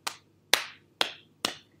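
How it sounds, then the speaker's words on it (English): Four single hand claps ring out alone at an even pace, about half a second apart. Each one is sharp and close and decays quickly into silence. "Give a clap."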